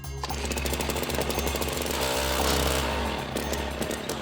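An ice auger's small gas engine sputters and strains to keep running on a frozen lake, a loud continuous rough mechanical rattle with uneven surges throughout.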